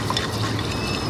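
Water sloshing and trickling as rice is washed by hand, a steady wet churning and pouring texture with no talk over it.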